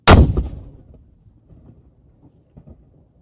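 A single loud, close cannon blast from a ceremonial gun salute fired on command, a heavy boom with a rolling echo that decays into quiet ambience.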